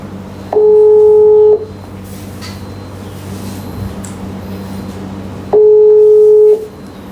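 A telephone ringback tone during an outgoing call, a steady two-tone electronic beep lasting about a second, heard twice with a long pause between, over a faint room hum.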